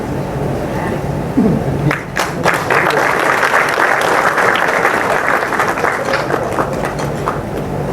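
An audience claps loudly and steadily at a club prize distribution ceremony, a dense sustained round of applause, with voices faintly audible underneath.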